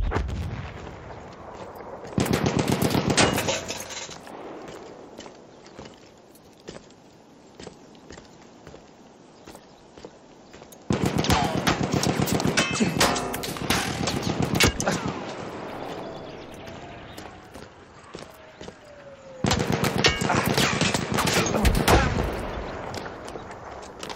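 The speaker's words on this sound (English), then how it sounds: "Enemy machine gun!" Enemy machine gun fire in a video game, coming in three loud sustained bursts of rapid shots separated by quieter stretches of background battle noise.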